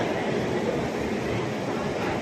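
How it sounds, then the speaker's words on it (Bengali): A suburban train pulls in at platform ten of Sealdah station, heard as a constant, loud rolling rumble of wheels and cars that fills the whole stretch without pause. "এখন ট্রেন ঢুকছে দেখো দশ নম্বর প্ল্যাটফর্মে"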